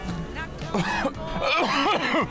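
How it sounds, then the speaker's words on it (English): A short, forceful cough-like burst from a nearby person, mixed with vocal sounds and some talking. "Can you give us a big cough?"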